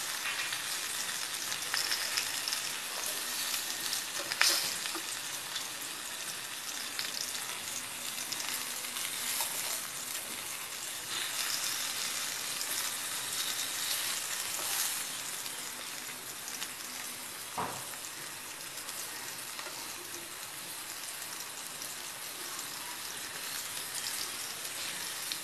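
Stuffed padval, pointed gourd, browning in oil in a pan, giving a continuous even hiss of frying that holds steady throughout with a few faint clicks and taps, fairly quiet and close.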